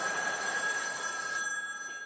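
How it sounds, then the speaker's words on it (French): A telephone rings with a steady electronic trill, sustained for about two seconds at moderate level with no voices over it. "Téléphone."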